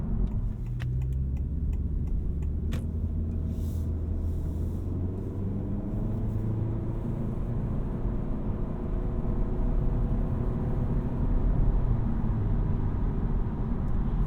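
A 2024 Honda Civic Touring with a CVT accelerates at about half throttle, its engine note rising smoothly and steadily under road rumble, heard from inside the cabin.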